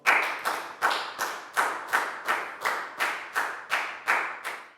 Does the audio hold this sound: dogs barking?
no